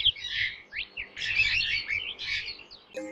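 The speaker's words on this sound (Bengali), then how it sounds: "কয়েক সপ্তাহ পর তাদের বাসায় ছোট ছোট পাখির ছানার কিচিরমিচির শব্দে" Small baby birds chirping in a nest in a banyan tree, set in an animated Bangla forest story: a dense stream of high, rapid cheeps and trills with brief pauses, close and fairly loud, no talk.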